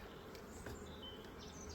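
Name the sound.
bees buzzing, disturbed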